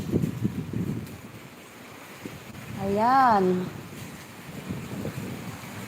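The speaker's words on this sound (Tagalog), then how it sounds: "Malakas ang hangin dito." Strong wind gusts around an open outdoor kitchen in Tabuk, Buenavista, Sablayan, a low rumbling buffet against the microphone that eases as someone speaks a short word midway.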